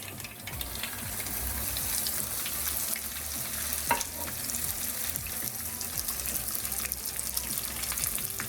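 Stuffed okra (bharwa bhindi with besan) sizzles and fries in a pan, a steady crackling hiss with occasional stirring scrapes and a brief clatter midway, no talking.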